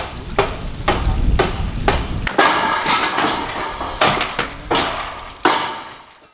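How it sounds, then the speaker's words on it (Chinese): A metal spatula scrapes and clatters rhythmically in a wok as dishes are stir-fried in a home kitchen, with a steady sizzle underneath; the strokes come as sharp, regular knocks, close and loud. "我炒几个菜"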